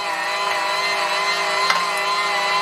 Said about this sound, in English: I'm going to grind it all through, and basically this is how it's done.